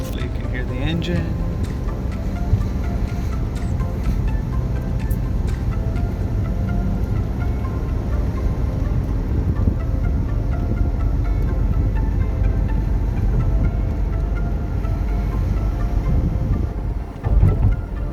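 A 2001 Porsche 986 Boxster Gemballa Avalanche custom runs while driving, a steady low engine drone blended with road and wind noise from inside the cabin, continuous and even throughout.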